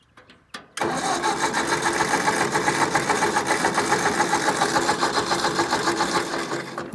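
A hay equipment engine, just refueled, starts abruptly after a few faint taps and settles into a loud, steady, fast-chugging run that continues to the end without speech.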